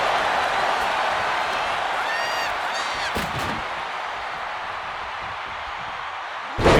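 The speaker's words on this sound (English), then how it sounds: "Look at this crowd. It's insanity in here. Bedlam." A roaring crowd fills the WrestleMania 41 arena in WWE 2K25, a steady wash of cheering that holds throughout, broken by a brief whistle and a loud slam at the very end.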